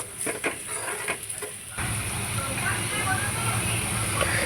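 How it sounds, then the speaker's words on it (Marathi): Onions sautéing in salted oil in a pan for a kaleji petha masala, a steady close sizzle and crackle that rises sharply after a few quiet stirs and clatters. "कांदा पण चांगला परतून घेऊयात"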